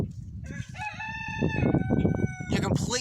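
A pet rooster crows close by in a backyard flock kept for eggs, a long ringing cock-a-doodle-doo with harmonic calls, and a second crow starts near the end, with hen clucks and low noise beneath.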